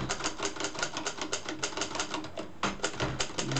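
Typing on a 1942 Hermes Media vintage typewriter, a close, rapid run of crisp key strikes with a steady clattering rhythm and a brief pause before the keystrokes resume, switched to the red ribbon.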